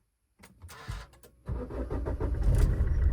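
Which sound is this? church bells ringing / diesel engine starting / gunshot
diesel engine starting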